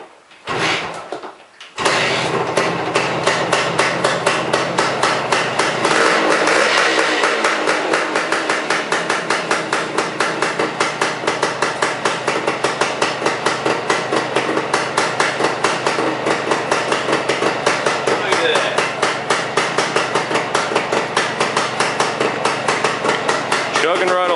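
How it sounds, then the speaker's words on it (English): A restored Suzuki engine runs steadily after a cold start, its rapid rhythmic chugging close and loud, holding an even beat for the length of the run after a brief quiet pause at the start. "Chugging right along."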